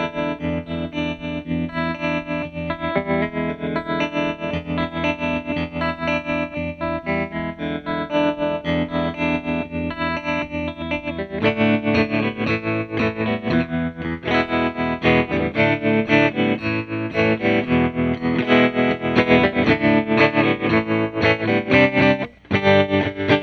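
An electric guitar plays through a pedalboard into a Fender Blues Junior amp, a sustained, driven tone with chorus and echo effects, with a thicker passage midway and a brief dropout near the end.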